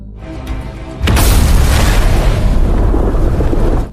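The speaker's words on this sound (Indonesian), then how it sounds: "membuktikan ancamannya bukan main-main, Raka meledakkan salah satu bom yang berada di mobilnya." A car bomb explodes in a film scene, a sudden loud boom that bursts in after a quieter stretch and roars on as a dense, sustained blast and rumble for about three seconds before cutting off.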